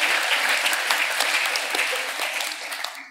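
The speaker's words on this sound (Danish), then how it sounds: "så vi klapper lige alle, der stiller spørgsmål" An audience at a Danish music history talk applauds, a dense steady clapping from many hands that thins out toward the end.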